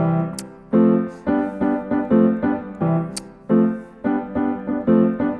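The same three chords, tonic, dominant and subdominant, played in a bouncier rhythmic style with short repeated stabs in a steady pattern and a few bright percussive clicks, with no voices.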